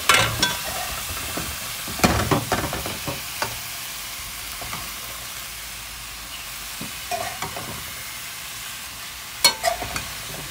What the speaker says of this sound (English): I just stir fry